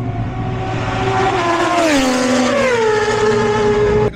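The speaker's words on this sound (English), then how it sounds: "First taste of a BMW flat out." A BMW race motorcycle screams flat out at full throttle on the Isle of Man TT course, its loud engine note sweeping down in pitch as it shifts, then cutting off abruptly near the end.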